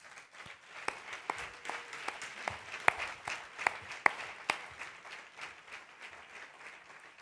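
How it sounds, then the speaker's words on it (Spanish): An audience at the Mar del Plata Film Festival closing ceremony applauds the best Argentine feature film award. The clapping is dense and continuous, fairly distant and soft, with a few sharper claps standing out. "Aquí están esperando para entregar este premio y este aplauso."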